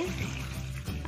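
Water is poured over washed rice in a home kitchen to soak it for biryani. The pour is a short, close, steady splash lasting about a second.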